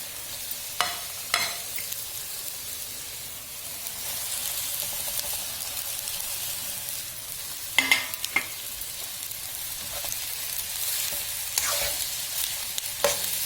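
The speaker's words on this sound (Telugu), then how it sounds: "రైస్ వేసి మొత్తం ఒకసారి కలుపుకోవాలి" Cooked rice is stirred into mint rice in a pan, a continuous low sizzle with intermittent scraping clinks of a spoon against the pan, louder clusters near the middle and end.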